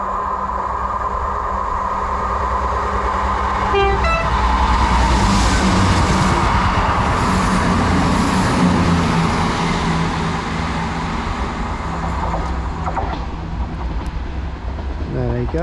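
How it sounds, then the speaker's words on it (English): A combined Class 158 and Class 170 train runs through a station on the Fife Circle, a long rumbling pass with brief tonal squeals and rail noise, as someone talks over it. "passing through now is a combo of a 158 and a 170 heading over to Edinburgh from Dundee"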